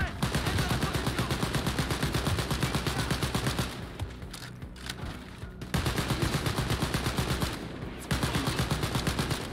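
Rapid automatic gunfire in the Wolfenstein Youngblood final boss fight rattles loud and steady in long bursts, pausing briefly midway, with no talking.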